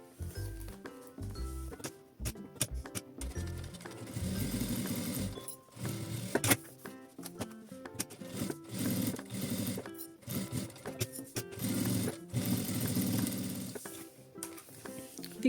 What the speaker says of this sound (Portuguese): E aí eu passo uma costura nos 3 lados.